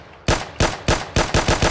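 Rapid gunfire in the Minecraft video game, about six loud, close shots in a quick, even rhythm, with no talking over them.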